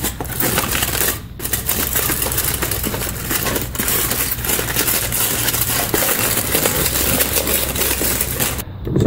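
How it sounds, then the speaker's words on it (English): Tin foil crinkling as it is tucked around cardboard next to PVC pipe: continuous close rustling and crackling with sharp little snaps throughout, steady and fairly loud. "Tucking tin foil around here so that the exposed cardboard is less likely to heat up."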